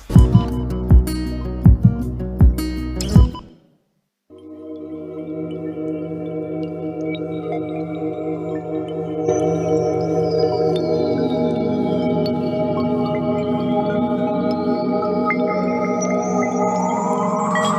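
A sustained synth pad from a song's production, swelling into a long held wash of layered tones with slowly gliding high partials, loud and steady, following a few short plucked notes and a brief gap, with no talk.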